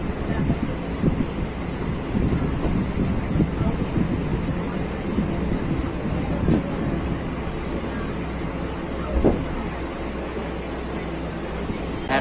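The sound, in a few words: Katwa–Howrah local train leaving Raihat station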